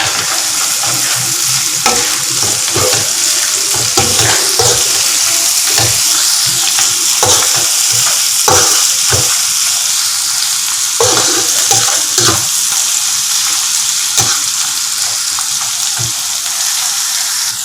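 Cashew nuts frying in a pan for mutton biryani sizzle loudly and continuously, with repeated scraping stirs of a spoon breaking in close up throughout.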